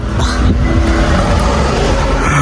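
Steady rumbling road noise from inside a moving car on its way to an airport, loud and continuous low drone with no talking.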